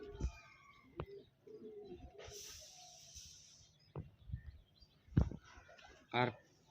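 Pigeons, including a female, coo softly at close range in scattered short calls, with a few chirps and sharp knocks, while human voices come and go between the calls.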